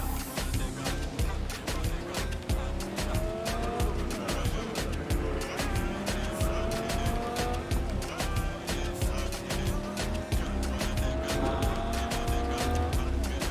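Video game car in Cyberpunk 2077 driving fast with repeated tire squeals and skids over a continuous engine drone, busy and loud throughout with music-like layers underneath.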